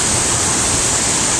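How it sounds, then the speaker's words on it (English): A flowing stream ripples and rushes on a walk downstream, a loud, steady, close wash of water noise with no voices. "Hear the sound of the water rippling."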